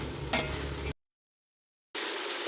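Carrot, potato and green chilli pieces are stirred in a hot pan with a steady sizzle and scraping, cut off by a sudden gap of silence before the frying resumes.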